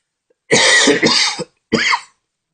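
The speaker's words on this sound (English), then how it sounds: "I'm just coughing my head off here" Two harsh coughs up close, a longer double cough followed by a short single one after a brief pause.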